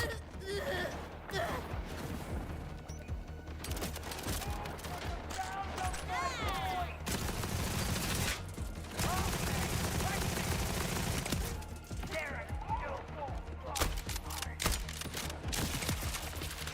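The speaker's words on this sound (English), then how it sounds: "This gun is insane." Dense bursts of video game gunfire, rapid automatic volleys broken by short pauses across the whole stretch, with a player's voice talking over the shooting.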